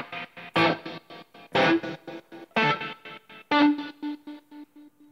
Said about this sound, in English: I also love doing reverb with tremolo,